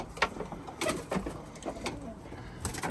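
Pet pigeons coo softly and repeatedly at close range during feeding, with light rustling and shuffling between the calls.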